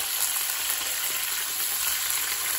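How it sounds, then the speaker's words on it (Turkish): Steady, dense sizzling of lamb shanks searing in a hot pot, a continuous close crackle with no pauses and no talking. "İnciklerimizi öncelikle mühürlüyoruz arkadaşlar."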